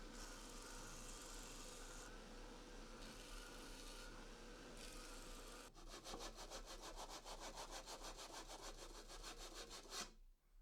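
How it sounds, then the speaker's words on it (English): Wooden letter H being sanded by hand, a steady broadband rasping stroke that continues throughout, becoming a fast rhythmic back-and-forth scrubbing in the second half before stopping abruptly near the end. "And now I can refine the final shape with a bit of sanding."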